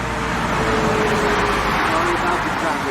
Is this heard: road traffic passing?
yes